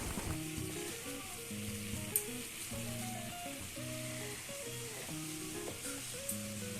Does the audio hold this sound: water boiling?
yes